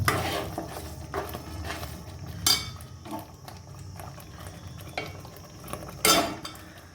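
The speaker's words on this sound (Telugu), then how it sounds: "ఒకసారి కలుపుకొని పన్నీర్ ముక్కల్ని వేసుకున్నాం." Paneer pieces stirred into masala curry in a pan off the heat, with soft scraping and intermittent spoon-against-pot knocks, two sharper clanks standing out over a low background.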